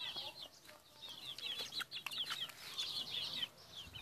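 Several chickens cluck and squawk close by in a busy, overlapping chatter, with occasional louder calls.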